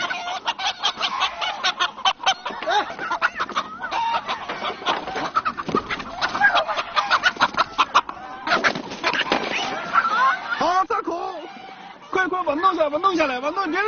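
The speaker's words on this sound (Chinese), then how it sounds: "哈士奇刚一进入鸡圈，就开始疯狂追赶一只公鸡。" Rooster in a chicken coop squawking and clucking frantically while chased by a husky, loud repeated cries and flustered calls over a narrator's steady speech.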